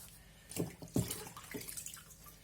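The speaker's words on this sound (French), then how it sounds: "on les égoutte" Freshly washed wild leeks drain nearby, with a few distinct drips and splashes of water falling in a quick, uneven run over a faint wet background.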